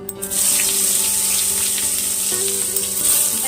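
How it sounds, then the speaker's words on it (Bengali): Cut brinjal fries in hot oil in a wok, giving a steady, fairly loud sizzle and hiss with some tonal background hum, no talking. "ওই কড়াইয়ের গরম তেলের মধ্যে আমি কেটে রাখা বেগুনগুলো এবার আমি ভালো করে ভেজে নেব।"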